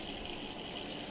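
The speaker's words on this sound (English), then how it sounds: "I already have the water running" Tap water runs steadily into a bathtub as it fills, a constant, close, broadband hiss and rush with no breaks.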